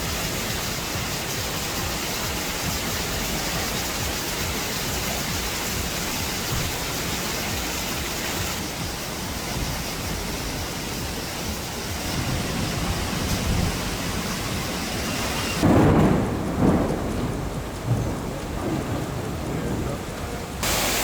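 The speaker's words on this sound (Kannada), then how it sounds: "ಗುಡುಗು ಸಹಿತ ಆಲಿಕಲ್ಲು ಮಳೆ ಸುರಿದಿದೆ." Heavy downpour in Belagavi, reported with thunder and hail, heard as a dense, steady roar of rain that swells a little louder toward the end.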